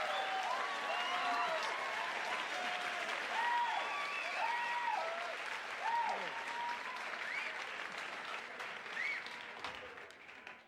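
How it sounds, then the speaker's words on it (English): Applause for a stand-up comedian's set, broad and sustained from a television studio audience, with a few whistles riding on top before it slowly thins out. "Thanks for applauding, thank you."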